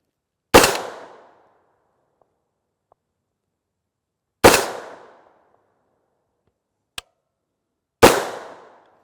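Three loud, sharp subsonic rifle reports from an 8.6 Blackout firing 280-grain MSC Recce rounds through a 12-inch fluted Faxon match barrel, spaced several seconds apart, each with a short decaying tail, plus one faint click.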